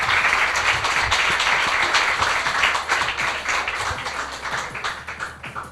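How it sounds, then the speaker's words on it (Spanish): Applause for Renzo Ferrer from a small audience at a talk-show style event, steady dense clapping that carries on through the whole stretch at fairly even loudness, with a little chatter mixed in. "Un aplauso para Renzo"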